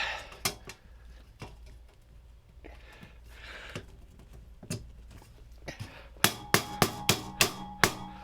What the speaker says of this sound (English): Stupid hammer is easier to use than the multi-tool wrapped in a towel.